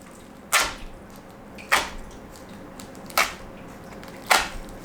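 Sharp, close cuts or slices through packaging tape on a shipping box of RC4WD Desert Runner parts, four distinct crisp strokes spaced about a second apart in a quiet room.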